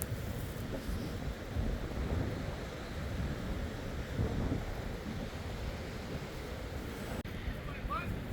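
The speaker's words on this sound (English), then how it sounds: "that wind is friggin' cold" Cold wind blowing outdoors at a Fort Laronde dig site, heard as a faint, steady low rumble of wind across the microphone with no clear breaks.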